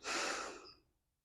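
A single deep inhaling breath during a gentle walking workout for seniors, close and fairly loud, swelling quickly and then fading out over about a second.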